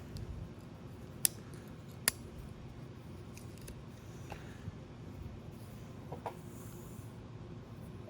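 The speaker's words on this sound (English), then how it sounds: "Pair of scissors." Scissors snip thread while a tarp is being mended, with a few sharp, quiet cuts standing out over a low, steady background hum.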